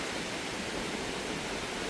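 Strong waves and current wash on Boracay beach, a steady, even broadband roar of surf that holds without breaks.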